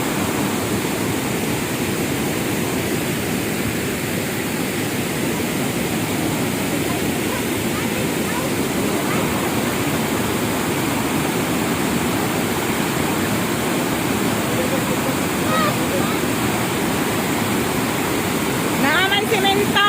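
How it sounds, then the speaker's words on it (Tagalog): Strong floodwater rushes through the Tonlob River, a loud, unbroken roar of churning water that is close and steady throughout, with faint voices briefly audible near the end. "Kay kusog pa man ng baha kaayo."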